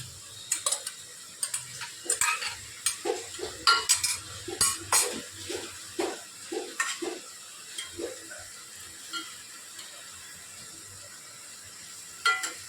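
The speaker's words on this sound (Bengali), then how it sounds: "এবার এর মধ্যে ভেজে রাখা এই মাছগুলোকে মিশিয়ে দেব।" Fried pabda fish is stirred into a sizzling oil-and-chili curry, giving a string of light clinks and scrapes of a utensil against the pan over a soft sizzle, busy at first and then thinning to occasional taps.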